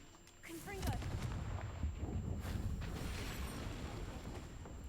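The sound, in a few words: Confringo blasting spell from video game Hogwarts Legacy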